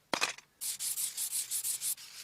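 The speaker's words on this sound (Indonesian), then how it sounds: "Kemudian diamplas menggunakan amplas merah agar mengkilap." Red sandpaper rubs along a homemade sword blade in a steady run of about eight rhythmic back-and-forth strokes, close and clear, after a brief initial scrape.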